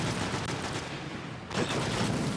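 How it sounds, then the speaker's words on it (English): Sustained rapid gunfire in the video game Destiny, aimed at the Templar boss in the Vault of Glass raid; a dense, continuous fusillade that dips briefly and then surges louder again. "I'm shooting at the Templar now."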